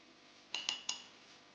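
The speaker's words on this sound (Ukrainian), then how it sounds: "Чайна ложка попелу, кладемо її в стаканчик." A teaspoon clinks against a glass three times in quick succession as it is placed in, bright and close in a quiet room.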